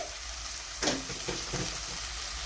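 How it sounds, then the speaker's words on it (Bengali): Ground turmeric, cumin, coriander and Kashmiri chilli powder fry in a pan for a chicken kasha, giving a soft steady sizzle with a brief stirring scrape near the start. "তো এবার এই মশলাটাকে একটু ভালো করে ভেজে নিতে হবে"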